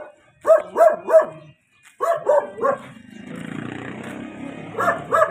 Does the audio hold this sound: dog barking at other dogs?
yes